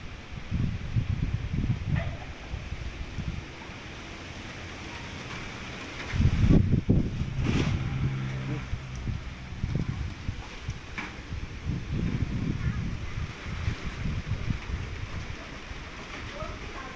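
Strong wind gusting through a stand of rubber trees during a storm, a steady rushing roar with louder surges of rustling foliage and occasional faint voices.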